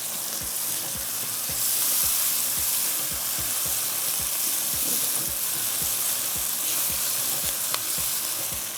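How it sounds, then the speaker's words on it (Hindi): Boiled eggplant fries in a pan over high flame with a constant hissing sizzle, while a spoon stirs and scrapes in a regular rhythm of soft knocks, close and steady. "ये बैंगन है जिसको बॉईल करके रखा। अब हाई फ्लेम पे आपने इसको भून लेना है"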